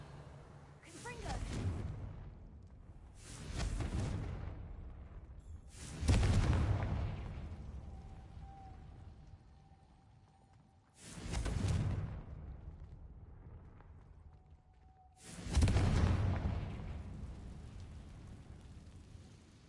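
Confringo blasting spells in Hogwarts Legacy go off as five separate loud explosions, each a sharp burst that rumbles and fades over a couple of seconds, with quiet gaps between them and no speech during the blasts.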